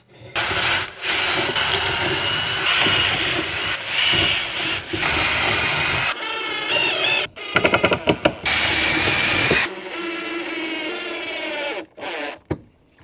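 A power drill driving into wood while building a fence picket planter, loud whirring bursts with short pauses and changes in pitch, close up and with no voices.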